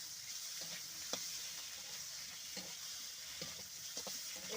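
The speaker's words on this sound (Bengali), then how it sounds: "ডিমটা ঢেলে এখন নাড়াচাড়া করবো" Duck eggs are stirred into fried spices in a pan, with faint scraping stir strokes at irregular intervals over a soft, quiet sizzle.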